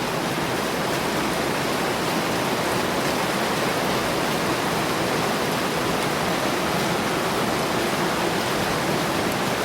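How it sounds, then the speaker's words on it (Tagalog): A long-awaited rain shower after a dry spell, falling over trees and grass in a rural area, gives a dense, steady wash of hiss that holds even and unbroken throughout with no voices. "umulan din po siya guys"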